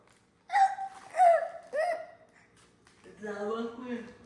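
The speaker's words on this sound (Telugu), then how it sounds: "ఎక్కిళ్ళు వస్తున్నాయి, వాటర్ తాగు." Hiccups come in three quick, separate catches within a few seconds, close and fairly loud in a home setting, followed by a person talking.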